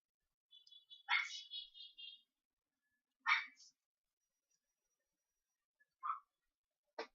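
A dog lets out a few short, faint yips and barks, spaced irregularly with silence between them.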